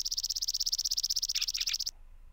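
In a Tekkit Minecraft game, a bird chirps in a rapid, even run of bright repeated notes, with a few quick warbles near the end before stopping abruptly.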